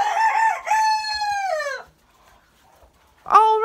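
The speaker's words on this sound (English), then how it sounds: "What a mouth on that rooster." A rooster in a backyard chicken coop at dusk crows loudly and close, one long drawn-out cock-a-doodle-doo, then a short pause before a second crow begins.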